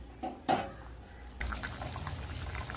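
Masala paneer gravy boils in a pot, starting quiet with a couple of soft knocks, then breaking into a dense, faint bubbling and popping for the last second and a half.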